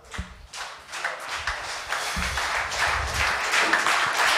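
Church audience at an evening service applauding God; scattered claps build into steady applause, fairly faint and roomy, with no talk over it.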